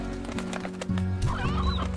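A stony hen in the Slime Rancher video game clucking, close and clear, with short warbling fowl calls over steady game background music.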